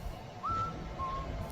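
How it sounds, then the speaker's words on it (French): A thin, eerie whistle rises and holds briefly, then a second lower tone follows, faint over a dull, rumbling background. "j'ai soudain entendu ce sifflement sinistre"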